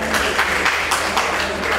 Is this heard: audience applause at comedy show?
yes